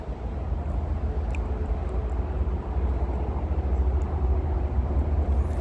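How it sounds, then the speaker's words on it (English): A Transperth A-series electric train arrives at Perth Stadium station, a steady low rumble building gradually with faint squeaks and clicks, no voices. "There's the train."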